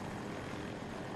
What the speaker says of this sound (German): Ich bin immer noch im Heli.